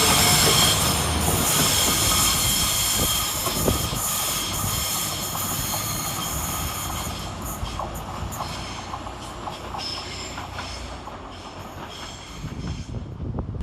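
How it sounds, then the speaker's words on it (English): A Northern class 195 train, unit 195128, departing Edge Hill station toward Manchester, with loud rumbling wheels and high metallic squeals from the rails that gradually fade as it pulls away. "departing in the opposite direction is 195128 with the 1759 Northern service of Liverpool Line Street to Manchester Oxford Road via Warrington Central"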